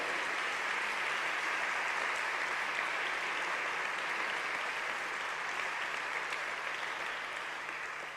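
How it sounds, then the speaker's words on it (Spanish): Congregation applause at a Spanish-language church service after a sermon reading, a sustained even patter of many hands clapping together, moderately distant and steady before slowly easing. "Le damos un aplauso"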